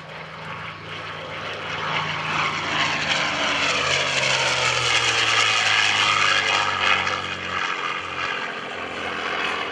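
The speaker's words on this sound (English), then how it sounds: "swinging a big 4-bladed prop out in front of that Rolls-Royce Merlin engine" A P-51D Mustang warbird roars past at an airshow, its Rolls-Royce Merlin piston engine and four-bladed prop droning louder as it nears, then fading slightly as it passes, alone without voices.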